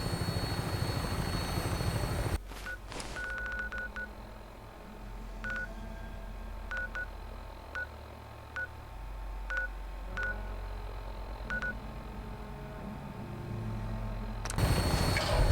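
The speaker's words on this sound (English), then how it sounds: "I'm just taking my vertibird out from your amphitheater" A Fallout 4 vertibird aircraft runs steadily through its takeoff with a continuous low rotor and engine rumble, joined by repeated short electronic beeps and clicks at an even pace. The sound carries on alone with no talk.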